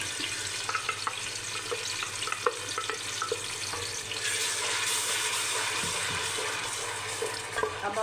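Tomato paste with spices sizzles and fries in a pan, a continuous crackling hiss with occasional stirring scrapes, close and steady, growing slightly louder midway.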